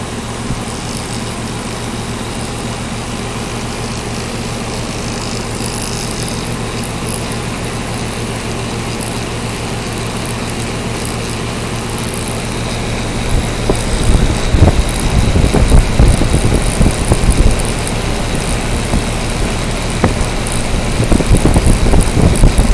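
A small fan on a 1995 Weatherking unit runs alongside a steady mechanical hum, then spins up to over 3,600 RPM into a louder, rushing whir with rattling, fluttering air noise through the final stretch.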